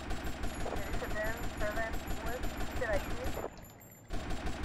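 Rapid bursts of automatic gunfire in GTA Vice City, dense repeated shots with a voice talking over them, cutting out briefly near the end before resuming.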